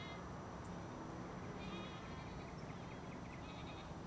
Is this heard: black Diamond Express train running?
no